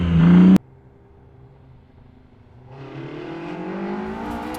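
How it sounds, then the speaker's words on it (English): BMW i8 hybrid sports car running its Mini-derived petrol engine: a short loud burst cuts off, then after a quiet pause the engine note builds and rises steadily, fairly close. "The i8 has a petrol engine from the Mini Cooper X. Can you show us how it sounds, Jensen?"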